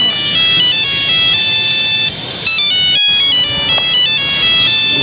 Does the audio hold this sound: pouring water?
no